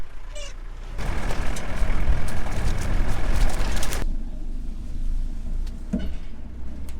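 A truck at a faba bean harvest field rumbles loudly and close for a few seconds, then its noise drops sharply to a lower idling drone, with a few faint chirps on top.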